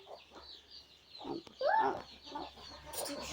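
A turkey squawks and clucks nearby in short bursts with a louder call in the middle, against a quiet outdoor background.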